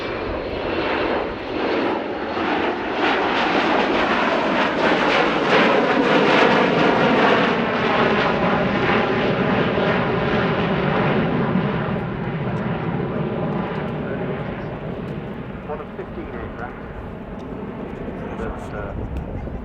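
Boeing 727-200 jet airliner flying a display at the Farnborough Airshow, its loud engine roar swelling and slowly fading as it passes, with a commentator talking over it.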